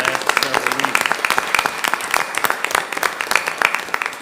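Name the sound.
round of applause at board meeting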